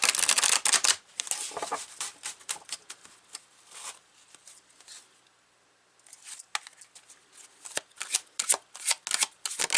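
Tarot cards being shuffled by hand up close, crisp rapid riffling and slapping in bursts with a short quiet pause midway, and no speech.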